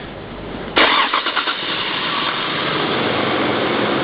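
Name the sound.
car engine starting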